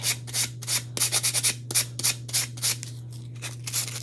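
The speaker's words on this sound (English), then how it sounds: "I can sand it." Short, rapid rasping strokes of sandpaper against the rough edges of a dried Chalk Couture patriotic stars craft piece come in irregular bursts up close, with a steady low hum beneath and no talking.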